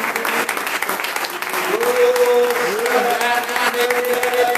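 A church congregation applauds loudly and steadily for several seconds, a dense wash of clapping that fills the room, with voices calling out over it.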